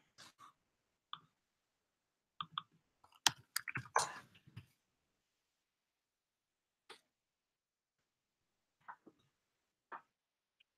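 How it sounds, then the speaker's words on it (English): A computer keyboard is typed on in a quiet room: scattered soft clicks, a brief dense flurry of keystrokes in the middle, then a few isolated taps with long silences between. "You're typing."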